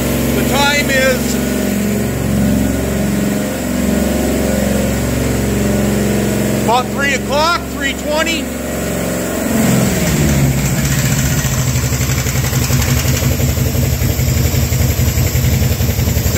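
A Hemi V8 engine runs steadily at raised RPM while breaking in a new cam, a loud, close, continuous rumble with a slight shift in tone partway through, as someone talks over it.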